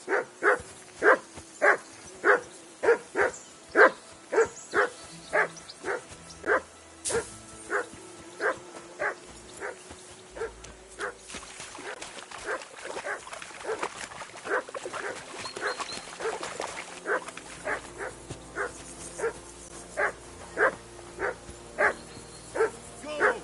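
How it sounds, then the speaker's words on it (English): A dog barks repeatedly in a steady, evenly spaced rhythm in the video game Kingdom Come: Deliverance 2, pauses amid a noisy stretch, then resumes barking at the same quick pace. "I assume you can hear that damn dog of yours barking."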